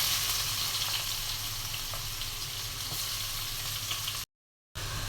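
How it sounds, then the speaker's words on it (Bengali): Onions go into oil left from frying fish, making a continuous close sizzle and crackle with a watery hiss. The sound cuts out briefly near the end, then returns. "মাছ ভাজা তেলের মধ্যে পেঁয়াজ দিয়ে দিচ্ছি।"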